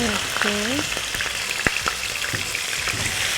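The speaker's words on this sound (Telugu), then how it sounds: "చికెన్ని నూనెలో బాగా మనం వేగనివ్వాలి" Chicken strips fry in hot oil with garlic cloves for a stir-fry with pimentos, giving a loud, continuous crackling sizzle with occasional sharp pops and utensil clinks close by.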